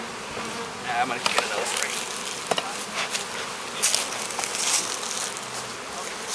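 Honey bees buzzing around frames pulled from a nucleus hive near dusk, a steady close swarm hum with individual insects zipping past the microphone, while a person speaks briefly over it.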